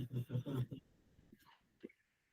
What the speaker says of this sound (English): I had to sneeze there, folks.